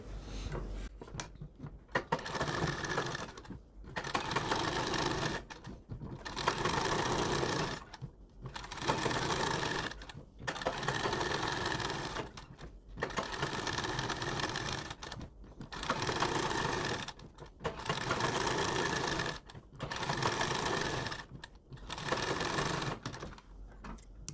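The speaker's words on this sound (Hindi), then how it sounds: "अब आपको यहाँ से सिलाई लगाना शुरू करना है अपने पूरे पेपर के बराबर में" Sewing machine stitching along the edge of a cloth face mask made from a paper pattern, running in about ten steady bursts of whirring stitches with short pauses between them, close and fairly loud with no talking.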